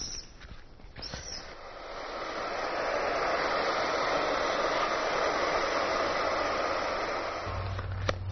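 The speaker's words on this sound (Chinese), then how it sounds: "擦干那个水还要把它吹干" A hair dryer blows steadily on a wet monkey being dried off, a continuous broadband whoosh that swells after the first couple of seconds and holds loud and close, with no talking.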